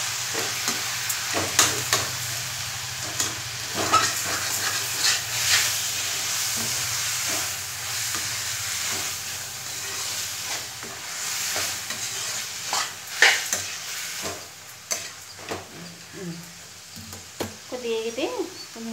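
Tomatoes with onions frying in a pan, a steady close sizzle with intermittent stirring scrapes and clatter running throughout.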